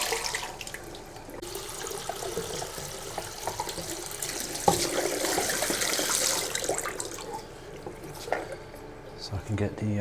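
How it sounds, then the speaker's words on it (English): Distilled white vinegar poured out of a container and running down a kitchen sink drain during home film developing, a continuous trickling splash with gurgling and clinks in a small room. "Pour that away down the sink."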